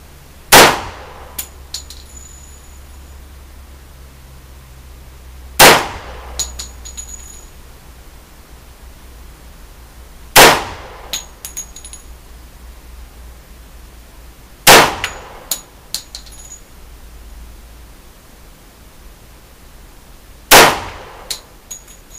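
Five gunshots ring off steel targets at an outdoor shooting range, one roughly every five seconds. Each is a sharp, loud metallic clang with a brief ringing tail, and quiet gaps fall between them.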